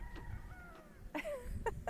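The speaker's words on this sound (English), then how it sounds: "I love to hear the roosters crow." Faint rooster calls sound in the distance in a small Appalachian town in St. Charles, Virginia, a couple of short crowing bursts over a quiet outdoor background.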